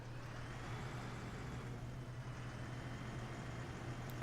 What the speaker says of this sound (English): Got the window open and everything, so we can hear the engine a bit better.